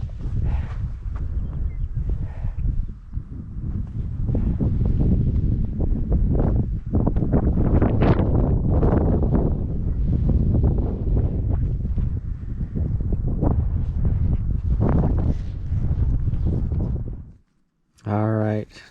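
Strong wind buffets the microphone on a night hike along Idaho's Centennial Trail, a loud continuous low roar with gusting surges that runs nearly the whole time before cutting out briefly near the end.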